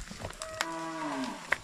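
A small young carabao (water buffalo) on a Philippine farm gives one drawn-out moo that rises and then falls over about a second. It sounds close and clear against a quiet background, with no talking.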